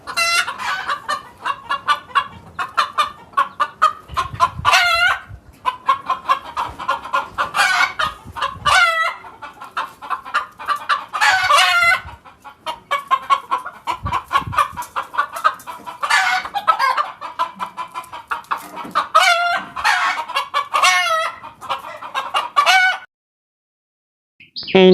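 Cartoon chickens cluck in quick, repeated bursts with squawks and crowing-like calls, loud and close, running almost continuously and then dropping out briefly near the end.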